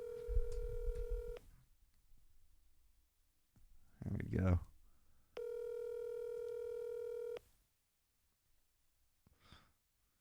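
A landline-style call is placed over a speakerphone: steady dial tones and a short burst of keypad dialing tones sound clearly between stretches of nearby talk and a sigh.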